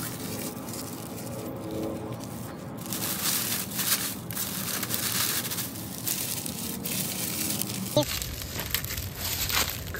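Crisp, dry leaves, six months old, crumple and crunch as they are squeezed tightly by hand for a solar-ignition tinder bundle, a steady close crackling texture with faint voice in the background.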